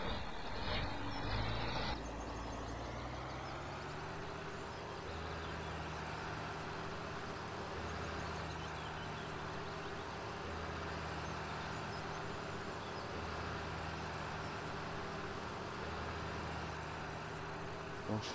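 Tractor engine running steadily in Farming Simulator 2013, a low continuous rumbling drone with a brief higher mechanical whine at the start and a voice talking faintly over it.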